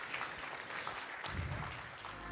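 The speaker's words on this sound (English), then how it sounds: "Let's give all of our panelists a big round of applause" Applause from a forum audience honoring panelists at the SIEW 2018 Singapore IEA event, a steady dense patter of clapping filling the room at moderate level, with no talk over it.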